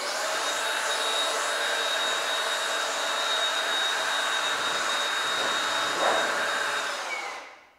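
A strong air blower rushes steadily across a wet, freshly waxed car panel to dry off water, a loud, close, continuous hiss lasting several seconds before tapering off to silence.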